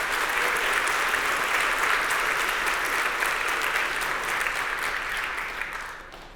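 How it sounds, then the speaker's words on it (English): A large conference audience applauds the React Native core team at a keynote, broad sustained applause filling the room for several seconds before fading away at the end. "please give them a round of applause for their hard work on keeping this rocket flying"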